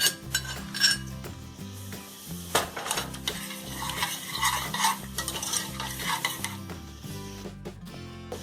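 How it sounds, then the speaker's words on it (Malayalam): Mustard seeds, fenugreek and dried red chillies fried in hot oil for a Vishu sadya tempering, sizzling and crackling as a spoon stirs and clinks against the metal pan, with rhythmic music underneath. "ഇനി നമ്മൾ കടുക്, ഉലുവ, ചുവന്ന മുളക് ഇതാണ് ഇതിൽ വറുത്തിടാൻ ഉപയോഗിക്കുന്നത്."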